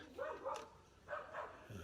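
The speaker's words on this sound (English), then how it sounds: "Dog's chasing pigeons again." A dog barks a few times in the distance, faint and intermittent, while chasing pigeons outdoors during a fishing rod repair.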